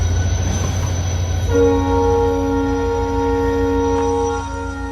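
A train rumbles into motion from Sihor station in Gujarat, low clatter joined by a sustained high squeal of wheels and humming tones that hold steady as it pulls away.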